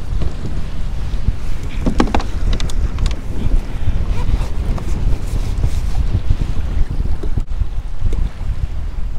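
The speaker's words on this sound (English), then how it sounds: "The winds are very high." Strong east-northeast wind, around 19 knots, buffets a microphone out on open water from a pedal kayak, a constant loud roar with gusty rumbling and faint splashes of chop.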